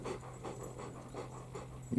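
A dog panting close by in steady, quick breaths, soft and continuous over a low background hum, with no talk.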